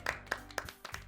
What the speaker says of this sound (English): He finishes, and we clap.